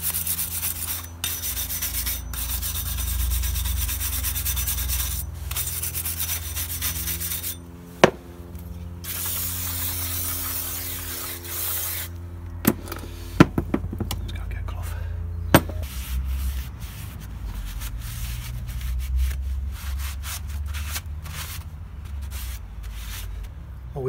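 A wire brush scrubs loose rust off a Mercedes Sprinter brake caliper in repeated rasping strokes, broken by short pauses and a few sharp metallic knocks, close and fairly quiet.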